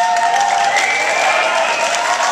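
Theater audience at the Castro Theater during an Edgar Wright Q&A bursts into loud, dense applause that fills the room evenly from start to end.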